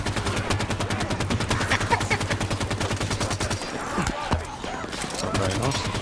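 Rapid gunfire from Phantom dropships during a Halo 5 firefight, a dense run of evenly spaced shots for about three and a half seconds, then scattered heavier blasts and game noise that continue under the shooting.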